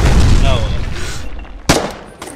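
Gunfire in the video game Foxhole comes as a loud, close burst of rumbling shots at the start, followed by a sharp single crack and a fainter shot later, with someone talking over it.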